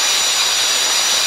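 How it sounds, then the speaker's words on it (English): Angle grinder biting into metal while an engine mount is fabricated for a Wood-Mizer LT15 sawmill engine swap; a loud, steady high-pitched whine and hiss runs without a break. "Some more grinding,"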